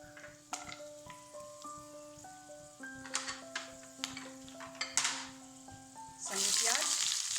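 Whole garam masala dropped into hot mustard oil, a soft steady sizzle with light clinks and ringing tones of a utensil against the pan, building to a louder hiss at the end.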